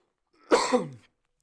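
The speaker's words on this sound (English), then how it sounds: "I said the word cannabis and I had to cough." A single harsh cough, close and fairly loud, followed by silence and a brief faint noise at the end.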